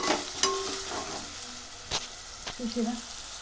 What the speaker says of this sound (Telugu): వేయించాలి మళ్ళీ ఇట్లా కొంచెం.